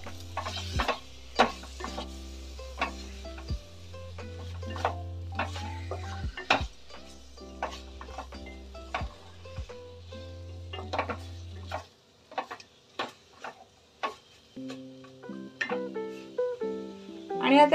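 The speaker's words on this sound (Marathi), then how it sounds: "हे सगळं आता व्यवस्थित मिक्स करून घेऊया." Mangalorean Shetty-style dry chicken sukka is stirred and mixed in a pan, giving quiet, irregular scraping strokes of a spoon against the metal over a soft sizzle.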